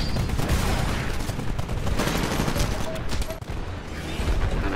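Rapid, continuous gunfire rattles in Titanfall as a player chases and fires at an enemy titan, dense automatic bursts mixed with mechanical battle noise, loud and close throughout.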